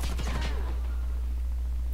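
Gunfire in the Warface shooter game, a quick close volley of several rapid shots over a constant low hum, trailing off into echoing decay.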